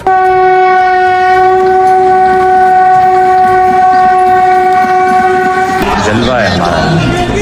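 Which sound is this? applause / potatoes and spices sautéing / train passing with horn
train passing with horn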